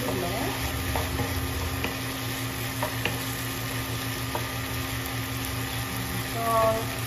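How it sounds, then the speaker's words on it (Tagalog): Sautéed ampalaya with chicken is stirred in a pan over a steady sizzle, with occasional soft scrapes and taps of the utensil, close and moderately loud. "Haluin ulit."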